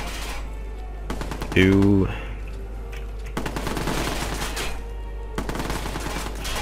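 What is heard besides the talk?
gunfire in the video game Watch Dogs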